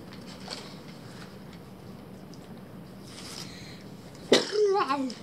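A single sharp sneeze bursts out near the end after quiet room noise, followed by a brief voiced exhale, close and loud.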